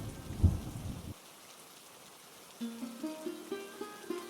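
Heavy rain with a thunder rumble in an animated Hindi cartoon, a loud crash and downpour in the first second, then quiet before gentle musical tones take over.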